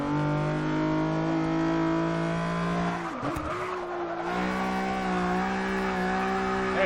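A Nissan 350Z drifting in the racing game Forza 6 gives a steady, loud, tonal engine drone that dips briefly as the tires scrub, then settles back to a sustained high rev, alone with no talk.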